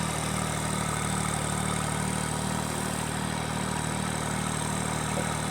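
Steady, close engine drone with a constant low hum from a forklift and tractors working to move pallets out of a hoop shelter, loud and unchanging throughout.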